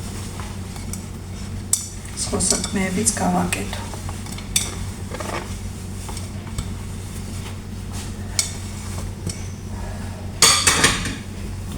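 Dishes and cutlery clink and clatter as kitchenware is put away, with scattered knocks and a louder burst of rattling near the end, under someone talking quietly.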